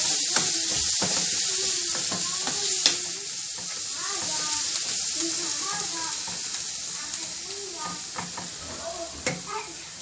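Chopped onions frying in hot olive oil in a pan, a steady loud sizzle and hiss with occasional crackles and pops running throughout.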